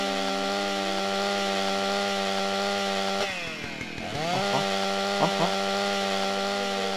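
Chainsaw in the video game GTA Wasteland: a loud, steady buzzing motor drone with a brief revving, grinding burst in the middle before settling back to its idle whine, with no talk.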